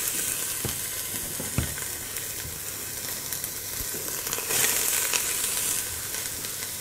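Pumpkin and onion sautéing in hot olive oil, a steady close sizzle with scattered crackles and scraping clicks, swelling to a brighter hiss near the end.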